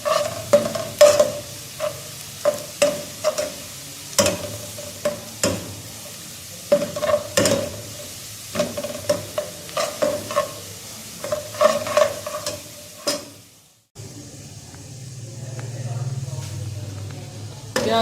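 Onions frying and being stirred in a pan for Pakistani chicken pulao, with repeated scraping stir strokes over a steady sizzle, near and fairly loud; the sizzle changes to a softer bubbling near the end as half a glass of water goes in.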